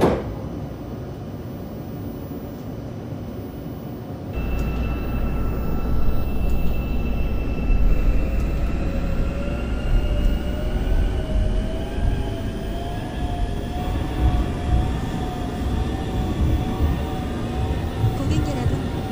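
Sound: Seoul Metropolitan Subway Line 4 train running toward Oido

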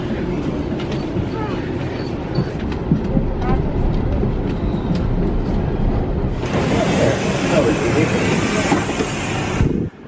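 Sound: commuter train arriving at station

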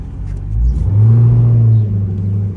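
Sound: car engine revving

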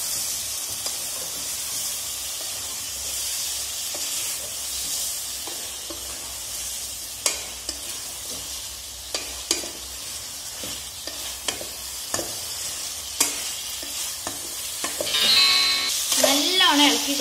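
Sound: tapioca pieces being stirred in a pan

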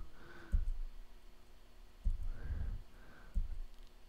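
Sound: pressing number keys on a computer keyboard

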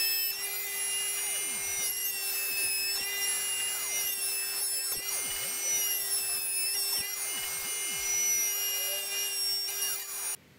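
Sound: router cutting slots in wooden dowels

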